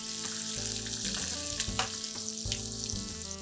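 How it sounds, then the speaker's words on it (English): Sliced onions hitting hot oil with whole spices such as cardamom, cloves, black pepper, cumin and a bay leaf, giving a loud, steady, close sizzle with a few stirring scrapes and no voice. "It is time to add some sliced onions,"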